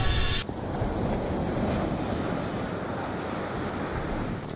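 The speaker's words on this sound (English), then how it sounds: "So it's a stormy night." Stormy night wind in the horror game At Dead Of Night roars steadily with a heavy, noisy rush resembling surf, continuous and loud with no talking.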